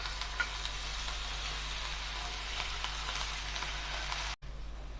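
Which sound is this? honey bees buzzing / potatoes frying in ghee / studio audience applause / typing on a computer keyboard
potatoes frying in ghee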